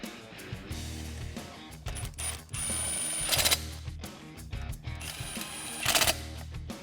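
Fuel injector rail bolts on a Mustang GT being tightened, heard as bursts of quick mechanical ratcheting whirs broken by short pauses, close and moderately loud with no talking.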